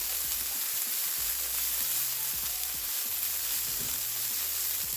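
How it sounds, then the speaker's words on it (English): A veggie hash sizzles steadily in a pan, a close, even hiss with faint irregular taps and scrapes from a utensil stirring it. Nobody speaks. "Let's go ahead and give this a stir."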